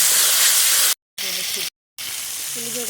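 Food frying in a pan gives a loud, steady sizzling hiss that cuts out twice, with a faint voice audible in the later part.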